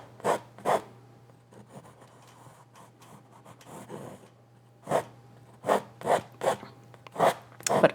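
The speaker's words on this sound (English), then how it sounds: "as I'm creating the mountain, I'm also scraping that color off." A palette knife scrapes oil paint off canvas while a mountain is painted, giving a run of short, fairly close rasping strokes, some in quick clusters, against a quiet background with a low steady hum.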